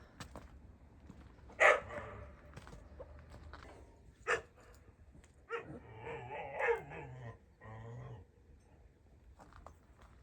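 A dog barks a few times, sharp and loud against a quiet background, followed by whining and yelping sounds.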